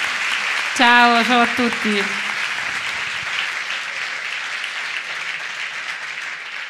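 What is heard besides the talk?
audience applause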